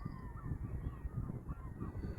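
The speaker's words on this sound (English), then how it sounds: "the seagulls are going" Seagulls calling after dark by the sea at Llandudno Pier in North Wales: several faint, drawn-out cries scattered over a steady low rumble of wind and surf.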